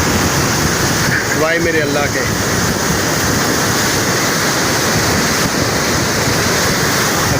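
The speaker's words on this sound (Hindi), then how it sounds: "वो ज़बरदस्त किस्म का पानी निकल रहा है" Powerful river water roars through the Head Marala headworks on the Chenab river, a loud, constant rushing wash close by, with a man's brief exclamation over it.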